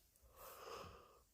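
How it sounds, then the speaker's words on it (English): A big human yawn, drawn out and breathy with a wheezy rise in the middle, heard close and alone for just over a second. "Oh my gosh, big yawns."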